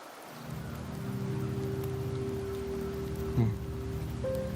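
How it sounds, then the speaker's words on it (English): Steady rain falling in the video game Wuthering Waves, a continuous soft patter over a low ambient hum, with a brief thump partway through. "The rains in Septimont never seem eager to leave this season."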